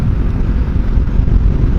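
A motorcycle engine held under 5,000 revs while riding, a low, smooth, steady drone buried in heavy wind rumble, loud and close with no speech.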